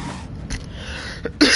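A person coughs in short bursts, a few brief harsh expulsions close to the microphone, the last one loudest.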